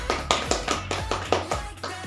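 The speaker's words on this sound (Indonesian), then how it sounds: "kita kasih aplaus untuk Sarifah" Brief classroom applause for a student, a spattering of claps and hand taps with a few sharper peaks, moderately close and without talk over it.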